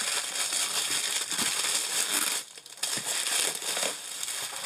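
Plastic wrapping on a storage case crinkles and crackles loudly and continuously up close, with a short dip near the middle before the rustling resumes. No one speaks.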